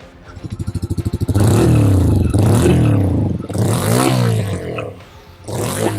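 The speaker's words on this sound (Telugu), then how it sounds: "ఈ మోటార్ సైకిల్లో మనకు రెండు మోడల్ కూడా ఆల్మోస్ట్ సేమ్ ఎగ్జాస్ట్ నోటే ఉంటుంది" Bajaj Freedom 125 motorcycle running on CNG: a brief chugging idle, then sustained loud revving with several rises and dips in engine pitch, recorded close and clear.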